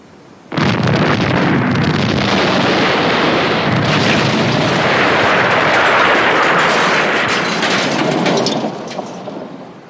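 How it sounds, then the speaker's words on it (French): A wartime bridge blown up by sabotage on a railway line: a sudden loud explosion bursts in, then a long, heavy roaring rumble continues at full strength for several seconds before slowly fading. "Un agent britannique prend ses photos du pont qui explose."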